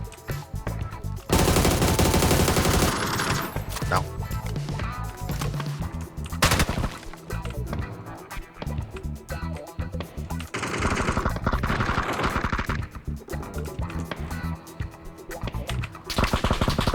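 Automatic weapon fire in the PUBG battle royale game, with long loud bursts and rapid volleys of shots that repeat across the stretch with brief gaps between them.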